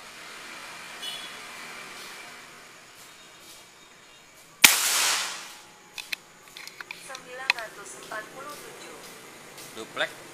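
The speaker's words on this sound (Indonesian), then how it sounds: "Tembakan keempat." One loud, close air rifle crack from a Velocity Buru Taktikal loaded with a 13gr X-Slug pellet, decaying quickly, followed by small clicks and handling noises with a voice speaking quietly afterward.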